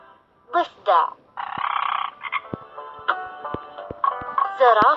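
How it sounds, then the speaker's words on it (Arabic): Frog croaks from an animal blocks toy: several short rippling croak bursts and a longer buzzing croak, close and fairly loud, with spaced gaps between them and a final burst at the end. "ضفدع."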